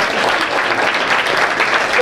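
Audience applause at a film trailer launch event, a brief burst of dense, loud clapping from a crowd, with a voice briefly heard over it.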